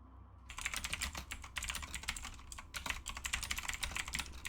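Rapid typing on a computer keyboard, fast close key clicks in quick uneven bursts over a low background hum, without talk.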